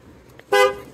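A car horn sounds once, a short loud honk, close by in the street outside a smokehouse in Bryson City. Quiet ambient street background before it.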